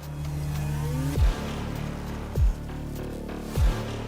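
Skip Barber race cars at Oran Park, with steady engine drone and three loud low thumps at regular intervals as cars pass close by.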